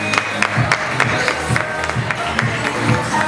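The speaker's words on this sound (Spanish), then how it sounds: "Y con este aplauso despedimos a César." A studio audience at a youth casting show applauds a departing contestant, a moderate, steady round of clapping with some scattered cheering and crowd noise.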